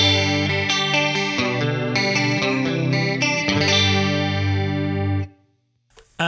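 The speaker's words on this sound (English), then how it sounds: "So that is the Behringer UC200 Ultra Chorus Pedal." A clean electric guitar runs through a Behringer UC200 Ultra Chorus pedal, shimmering strummed chords and picked notes ringing with a wavering chorus effect for about five seconds before cutting to near silence and a brief noise.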